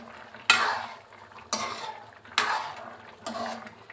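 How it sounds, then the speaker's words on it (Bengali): Spice mixture being stirred into a rohu fish curry in a pan, heard as four scraping strokes about a second apart, each followed by a soft sizzle, close and with no one talking. "এখন পুরো তরকারিতে এটা মিশিয়ে দেব।"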